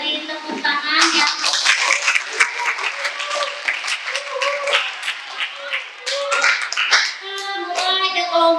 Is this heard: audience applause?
yes